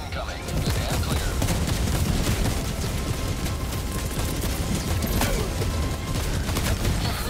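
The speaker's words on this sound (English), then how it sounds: "Orbital barrage incoming." An orbital barrage in the game Helldivers 2 pounds down as a relentless, loud stream of overlapping explosions and gunfire-like bursts, dense and continuous throughout.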